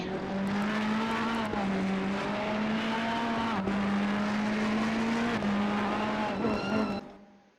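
Race car engines in a sim racing game at the Misano circuit drone steadily and loudly for several seconds, with brief shifts in pitch, before cutting off abruptly near the end.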